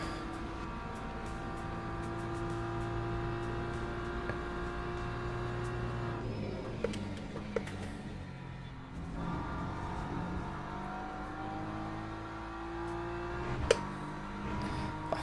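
In a racing video game, a BMW race car is driven at Monza. The engine hum is sustained and tonal and changes pitch as the car shifts and revs, with brief bumps and clicks from curbs.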